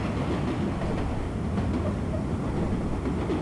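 A World of Subways 4 subway train rolls over points with a dense, continuous rumble and faint clicking of the wheels, loud and steady throughout with no voice.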